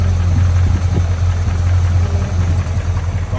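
A 1984 Dodge Power Ram 150 pickup truck with a 318 engine idles steadily nearby, a low, even rumble with a slight rhythmic throb and no talking.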